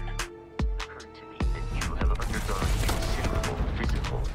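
Gunfire aimed at tanks in the video game Starfield, using a Legendary Shattering Modified Maelstrom rifle: sharp shots crack out at first, then a dense, continuous volley with booming impacts fills the rest.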